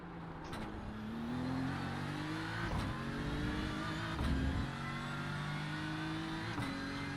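A race car engine at the Spa 24 hours endurance race, heard from on board as a steady droning roar that rises and holds, with sharp gear-change blips breaking the tone several times.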